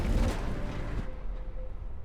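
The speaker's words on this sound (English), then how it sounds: "Fire the cannon." A cannon fires in the video game Mass Effect, a loud, low boom with a thick rumbling tail that cuts off sharply, then fainter rumble and low noise continue.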